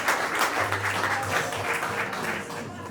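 Wedding guests applaud steadily at a reception, a full round of clapping filling the room for about three seconds, loud and continuous with a faint low hum underneath.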